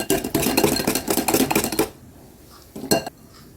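Rapid clattering of a whisk against a bowl while beating eggs and sugar, loud and close, stops abruptly, then a quieter pause and one brief final scrape.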